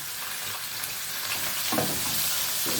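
Lamb pieces for okra stew fry steadily in a pan, a continuous close sizzle with occasional stirring scrapes and brief pops, no one talking.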